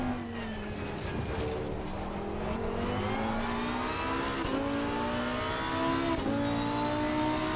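Race car V10 engine at Spa-Francorchamps in Assetto Corsa Competizione, a loud, steady high-pitched drone with rising revs through gears, brief dips at shifts, heard close from the cockpit with no talk.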